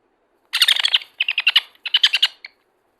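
A baby sun conure chirps in quick bursts of shrill, close tweets while it is hand-fed, the calls grouped into three short clusters ending with a final peep.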